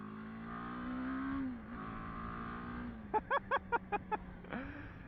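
A 2023 BMW G 310 GS Rallye motorcycle engine idles steadily, then gives a quick run of about six sharp throttle blips, followed by one more softer rev, close to the microphone.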